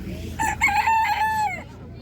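A rooster crows loudly and close by at a market, one long drawn-out call that rises and falls before fading.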